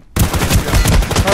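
Rapid, loud automatic gunfire in the shooter game Ring of Elysium starts abruptly after a brief silence and continues as a dense, close stream of shots.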